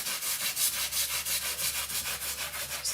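Wax being rubbed into wood against the grain, a steady back-and-forth rubbing with about a dozen even strokes, close and alone.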